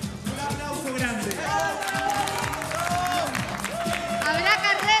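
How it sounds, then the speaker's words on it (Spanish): A crowd at a lively evening show event applauds and cheers, with overlapping voices shouting and talking over dense, continuous clapping, loud and close throughout. "Un aplauso grande."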